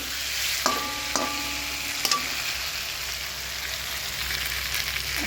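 Pointed gourd curry frying and sizzling steadily in a pan, with a few sharp bursts as water is added and stirred in; a continuous hiss runs throughout with no talking.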